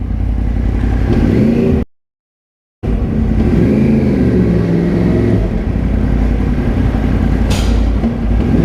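A 2013 Yamaha R1 motorcycle engine roars loud and close on a night ride, its drone rising and falling with revs, cut by a brief complete dropout before the engine noise resumes.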